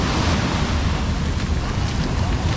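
Steady, loud ocean surf washes continuously at a Mazatlán beach at high tide, with wind rushing across the microphone throughout.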